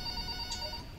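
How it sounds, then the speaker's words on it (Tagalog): A telephone rings in the video game Five Nights at Freddy's 3, its steady tonal ring sitting over a low constant hum for about a second, with no talk. "Huwag niyo muna patayin yung yung telepono."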